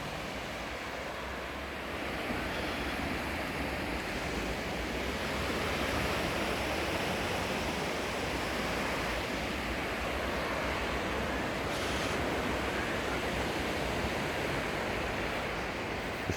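Surf rolling in at Redcar Beach, a steady broadband wash of waves with some wind across the microphone, continuous and fairly loud throughout with no talking.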